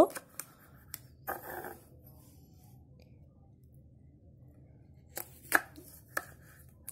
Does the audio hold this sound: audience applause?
no